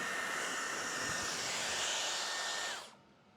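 A Dyson hair dryer blows steadily at close range while drying only the roots of hair during at-home bleaching, a continuous high whooshing whine that cuts off near the end, leaving quiet.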